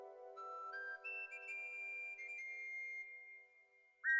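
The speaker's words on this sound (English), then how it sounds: "Low whistle." A low whistle sounds in the 1989 King's Quest IV video game, a single sustained synthesized tone with harmonics that steps upward in pitch a few times before stopping, followed by a brief click.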